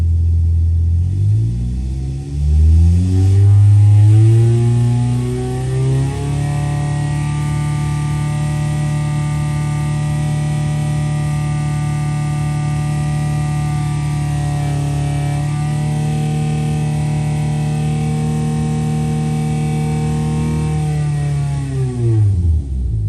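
A David Brown 1200 tractor engine, just reassembled after an engine rebuild, cranks over, catches and roars up, then settles into a loud, steady run for a long stretch before revving down.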